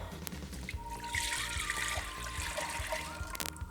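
Blended soy and water being strained for tofu, a steady trickling and splashing of liquid pouring through a filter, close and continuous.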